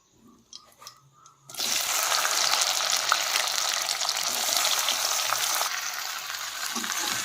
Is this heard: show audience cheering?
no